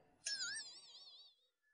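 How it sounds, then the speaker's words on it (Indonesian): A cat gives a single clear, wavering meow that starts sharply and trails off over about a second, fairly faint and heard alone in a quiet room. "Kucing."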